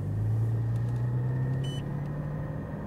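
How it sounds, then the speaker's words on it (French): A Porsche Cayman GT4 pulls away on a race track, its engine a steady low rumble heard from inside the car, with a brief electronic beep partway through. "Allez, on est parti avec Emery qui est en GT4."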